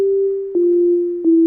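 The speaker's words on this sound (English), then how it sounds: "Just the pure tone of a sine wave" A pure sine wave tone with no harmonics holds steadily at one low-mid pitch, loud and clean, broken by two soft clicks where it shifts slightly, with no voices.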